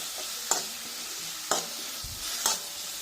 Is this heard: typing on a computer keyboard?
no